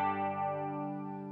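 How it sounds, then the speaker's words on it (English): A sustained clean electric guitar chord through a Marshall MG100FX amp rings out and slowly decays, shimmering with chorus and a wash of reverb, no bass. "this should be our clean sound with lots of reverb and chorus and no bass"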